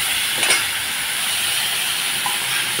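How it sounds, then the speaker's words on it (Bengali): Cauliflower pieces seasoned with salt and turmeric fry in a pan, giving a steady, close hiss of sizzling oil throughout with a brief louder burst near the start; no voices. "এখন আমি কপিটাকে ভাজা ভাজা করে নেব।"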